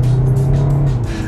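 Kia Sorento under full-throttle acceleration, a loud steady engine drone with a strong low hum and rising road roar, heard close from inside the car for a brief moment.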